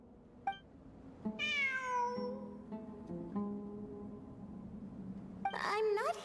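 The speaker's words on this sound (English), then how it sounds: "I'm not hearing things. It really is a cat." A cat meows in the video game Genshin Impact, two drawn-out rising-then-falling meows a few seconds apart over a steady low game hum, with brief soft clicks between them.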